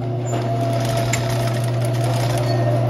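A sewing machine stitches a straight seam on a six-panel flared midi skirt, running with a steady, fast mechanical hum and rattle close by throughout.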